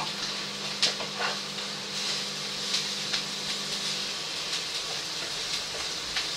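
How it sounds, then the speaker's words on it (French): Shallots sautéing in a pan for andouillette with mustard give a steady, broadband sizzle and hiss, with a low hum underneath and occasional brief crackles and pops standing out. "Donc là, on fait bien revenir les échalotes."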